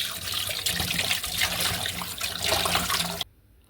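Pangas fish is washed under a running kitchen tap, loud close gushing and splashing water with shifting bursts as it is rinsed, stopping abruptly near the end.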